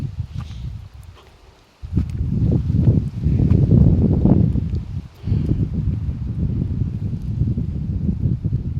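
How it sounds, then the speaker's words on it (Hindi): Strong wind blows loud and steady across an outdoor compound where a cow grazes, with a brief lull near the start before gusts roar back and hold through to the end. "आज भी हवा चल रही है, हवा बहुत तेज़ हवा चल रही है।"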